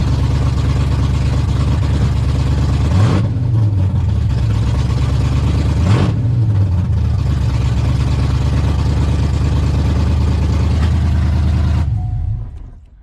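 A wrecked Chevrolet Corvette with a freshly refreshed engine runs steadily after a cold start, a loud, even low rumble that dips sharply twice, then cuts off and fades at the end.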